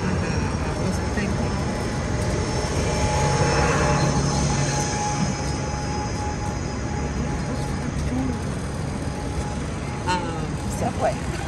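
A Chicago subway train rumbles loudly and continuously while riding, with voices murmuring faintly beneath the roar.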